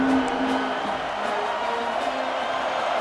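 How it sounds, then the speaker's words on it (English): A stadium crowd roars steadily at a college football game between Missouri and Texas, a broad sustained din with scattered whoops, fairly loud and continuous. "The crowd getting behind this defense as they try to get a stop in the red zone."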